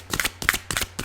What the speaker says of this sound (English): I'm using the Archangel Power Tarot cards by Doreen Virtue.